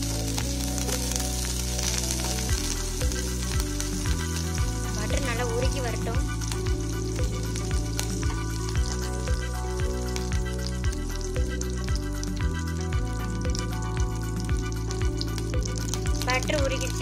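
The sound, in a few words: butter sizzling and melting in a pan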